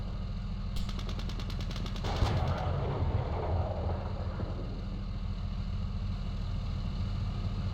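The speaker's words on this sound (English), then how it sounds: "There is one of my tanks still shooting at that." Tank gunfire in Steel Beasts Pro, a fast burst of machine-gun shots followed by a heavier boom, over a constant low engine rumble.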